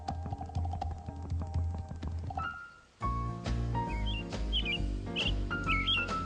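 A pair of thrushes at their nest give short, high chirping calls in quick clusters over a continuous bed of music.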